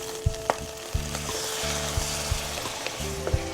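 Raw crab meat stir-fried in oil at about 140 degrees with ginger, a loud continuous sizzle broken by several sharp spatula knocks and scrapes against the wok.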